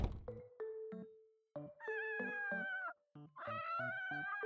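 A cat meows several times in a row, faint and repeated, with short pauses between the cries.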